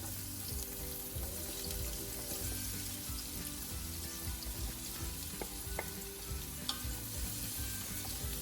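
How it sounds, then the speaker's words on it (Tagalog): Minced garlic and chopped onion sauté in hot oil for Filipino kare kare, sizzling steadily with stirring scrapes and occasional clinks of the utensil against the pan. "Isutay natin ang 1 whole minced garlic, at 2 medium-sized na chopped onion."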